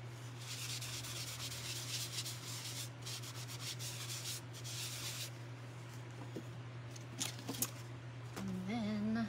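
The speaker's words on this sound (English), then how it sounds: "All right, let's do the little sanding." Hand sanding rubs steadily across a stencilled Christmas ornament, giving repeated close, scratchy strokes over a constant low electrical hum, then tapering into sparse scrapes and taps.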